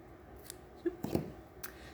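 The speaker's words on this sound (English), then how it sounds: "take your ribbon and kind of find the middle, okay, and cut it in half" Scissors snip through a ribbon at a craft table, giving a couple of faint, quick cuts close by in otherwise quiet surroundings.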